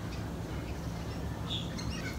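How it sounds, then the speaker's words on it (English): Birds chirping and squawking outdoors on a sunny afternoon, scattered faint calls over a soft steady background hiss, no voices. "can you hear the birds?"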